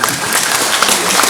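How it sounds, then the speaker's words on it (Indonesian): A crowd at a regency grand launching event in Malang applauds in a dense, loud, continuous wash of clapping for the whole short moment, without speech. "Tepuk tangan untuk kita."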